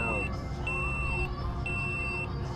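Start countdown beeps and a buzz at the opening of a Mammoth stage 2, high electronic tones repeating about every second over steady background noise and crowd murmur.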